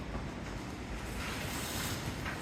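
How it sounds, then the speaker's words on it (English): Strong wind buffets the microphone outdoors at a museum, a loud continuous roaring rush with gusty swells and no other sounds. "it's extremely windy"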